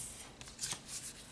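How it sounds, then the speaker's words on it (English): Tarot cards being shuffled close up, a quick soft riffle of paper flicks lasting about a second, quiet and alone. "let's pull some tarot."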